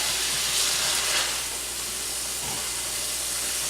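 Steam hisses and sizzles loudly from a hot pan as a Juicy Lucy burger cooks, a broad continuous rush that swells early and then settles into a steady sizzle with a brief clunk partway through.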